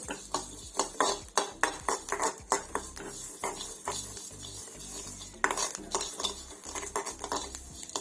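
Black pepper, cumin and fennel seeds roast in a pan while a metal spatula scrapes and taps in a quick, repeated rhythm, close and fairly clear, with a light sizzle underneath.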